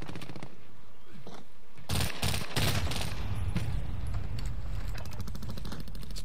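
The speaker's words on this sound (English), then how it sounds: "It's the AK-47's hitting pretty hard now" AK-47 fire in a video game: a quiet opening of scattered clatter, then loud dense bursts of automatic shots, with rapid repeated rounds continuing near and heavy to the end.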